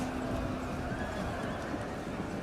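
Cavalry horses in Total War: Rome II, Suebi noble riders charging into missile troops, with dense galloping hooves and whinnies in a continuous, loud battle din.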